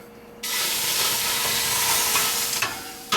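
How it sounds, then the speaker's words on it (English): A loud burst of sizzling and hissing starts suddenly as a cup of cold tap water hits a very hot pan, holding steady for a few seconds, then cuts off. "You hear it sizzling. You can do the math. You know it's steaming."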